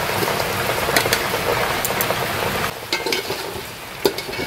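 Chicken frying in oil with raw chopped onions for dum biryani, a loud, dense sizzle that drops a little partway through, with occasional clinks and scrapes of stirring.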